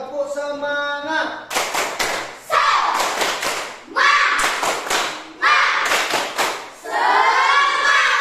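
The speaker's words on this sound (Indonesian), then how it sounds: "Silakan anak-anak tepuk semangat dulu lagi sekali." Schoolchildren in a classroom stand and perform a rhythmic clapping cheer, with bursts of patterned hand claps between loud chanted shouts from the group, recorded close and lively.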